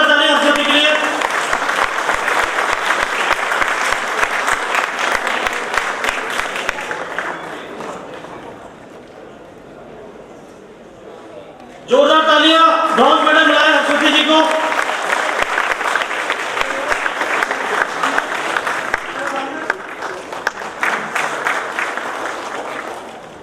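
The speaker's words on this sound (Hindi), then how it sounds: "जोरदार तालियां" Loud, dense audience clapping for a quiz prize winner at a Dr. Ambedkar Jayanti stage ceremony, dipping briefly halfway through before surging again, with voices mixed in.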